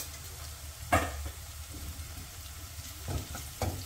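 Cumin and mustard seeds frying in hot oil for dal bati, a soft continuous sizzle with a few sharp pops and crackles spaced out over a low background hum.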